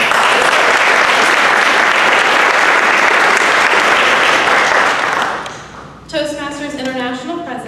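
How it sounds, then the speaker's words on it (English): Sustained, dense applause from an audience at a community speaking event, loud and steady for about five seconds before fading out, after which a person begins speaking. "If we could give them a round of applause."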